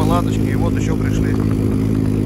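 A Stels Kapitan snowmobile engine drones steadily and loudly under a man's speech while riding on a winter fishing trip, with a constant low hum and no pauses.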